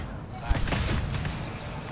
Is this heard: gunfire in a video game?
yes